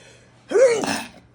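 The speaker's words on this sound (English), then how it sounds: "About to sneeze. Hold on 1 second." A single sharp sneeze bursts out after a quick intake of breath, close and fairly loud, then fades into quiet room tone.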